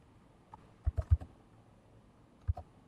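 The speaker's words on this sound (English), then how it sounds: "And I'm going to type in" Close, quiet keystrokes on a computer keyboard come in a short cluster of four or five quick taps, then a pause and two more, with no speech.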